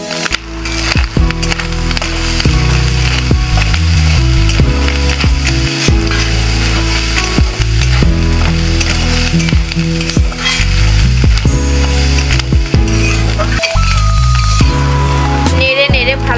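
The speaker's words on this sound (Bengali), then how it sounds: "নেড়ে নেড়ে ভালোভাবে ভেজে নিতে হবে" Vegetables for egg noodle soup are stir-fried in a pan, with a loud, continuous sizzle and repeated wooden-spatula scrapes and knocks up close.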